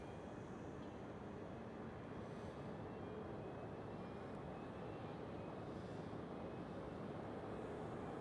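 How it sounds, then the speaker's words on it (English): A KLM City Hopper airliner takes off at Amsterdam Schiphol, heard from a distance as a faint, steady jet roar with a thin whine over low rumble. "Right there we do have a KLM City Hopper taking off."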